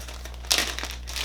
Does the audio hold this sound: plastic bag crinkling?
yes